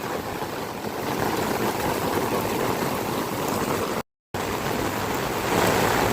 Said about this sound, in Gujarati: ગામનો વેકરામાં પાણી આવી ગયું ફૂલ